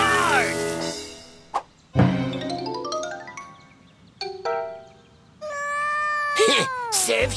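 A cartoon cat meows and yowls loudly in a kids' animated show, with several separate cries that slide up and down in pitch, a few brief chime-like dings, and a closing yowl that bends upward.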